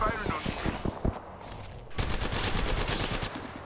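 Rapid video-game gunfire in bursts: a string of sharp, evenly spaced shots, a short lull, then a denser, continuous volley of automatic fire, loud and close.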